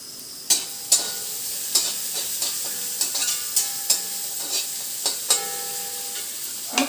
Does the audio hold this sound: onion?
yes